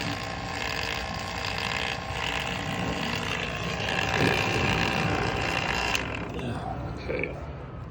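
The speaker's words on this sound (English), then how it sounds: "we're gonna have to wait till it stops pulling a perfect vacuum" A vacuum pump pulling a vacuum on a furnace line gives off a close, steady mechanical drone with a faint whine. It runs continuously, then drops and thins out near the end.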